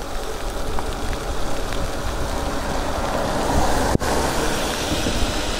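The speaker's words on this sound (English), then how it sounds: "With the rain coming down," Steady rain coming down during a commute on an electric bike, a dense continuous hiss mixed with airflow rush, loud and close throughout, with one sharp brief pop near the end.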